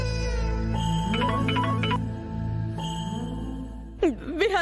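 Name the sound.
phone ringtone, incoming call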